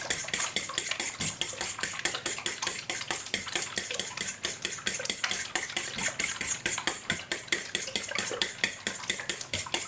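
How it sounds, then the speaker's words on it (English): Fork rapidly beating eggs in a bowl for spaetzle dough, a steady run of quick, bright metallic clicks and taps, close and fairly loud, continuing evenly with no talking. "You're going to take a plain fork and you're just going to start by beating your eggs"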